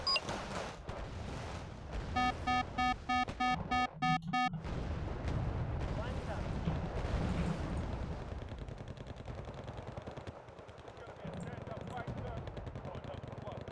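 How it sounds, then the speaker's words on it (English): Rapid weapon fire and explosive bursts from a grenade launcher in the real-time strategy game Wargame: Red Dragon, with a repeating beeping burst early on, over ongoing battle noise and talk. "Go on, fire a grenade launcher."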